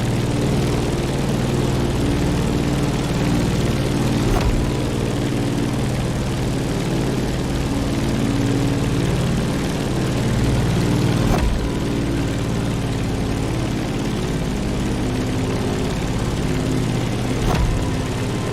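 A propeller plane's engine drones steadily and loudly throughout in The Crew Motorfest, with a low continuous hum and a few faint clicks, no talking.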